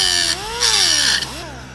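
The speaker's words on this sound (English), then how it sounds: "So I have to drill that out" Power drill boring through the metal of a stock Jeep WJ Grand Cherokee seat rail, a loud close whine that rises and falls in pitch over a couple of short bursts.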